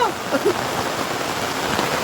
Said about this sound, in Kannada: ಏನು ಮಳೆ ಅಂತೀರಾ ಯಪ್ಪ, ನೆಕ್ಸ್ಟ್ ಲೆವೆಲ್ ಮಳೆ.